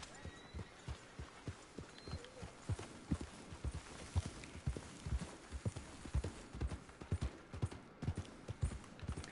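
Steady clip-clop of horse hooves at a walking pace in Red Dead Redemption II, soft and rhythmic over a faint background hiss.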